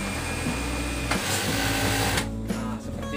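A sewing machine stitches bias tape onto a fabric ruffle, a close, steady mechanical whir with a fine rhythmic hum, briefly pausing and starting again in short runs.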